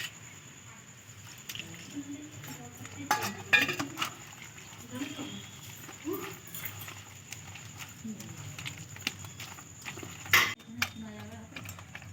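Spoon or whisk clinking and scraping in a bowl while palm-fruit malpua batter is beaten with milk, producing faint irregular taps and squishy stirring, with a couple of sharper clinks, under a quiet voice speaking.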